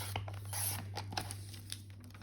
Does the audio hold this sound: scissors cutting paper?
yes